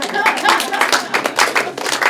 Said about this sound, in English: give him the slow clap